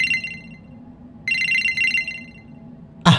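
A phone rings in the horror game The Bridge Curse: two bursts of a bright electronic telephone ring separated by a short pause, loud and close, then a sudden thump at the end.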